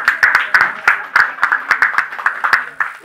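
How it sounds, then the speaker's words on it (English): Applause at a heritage event in India, with distinct claps in an uneven rhythm throughout, fairly close and moderately loud, and a little voice mixed in. "I think one round of applause"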